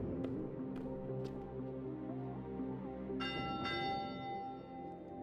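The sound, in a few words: tower bell ringing in a monastery library video game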